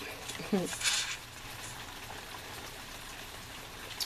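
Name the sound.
rain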